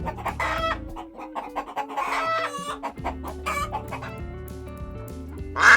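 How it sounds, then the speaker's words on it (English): Domestic chickens cluck busily and a rooster crows, loud and near, over a continuous musical backing with no talking. "Chicken."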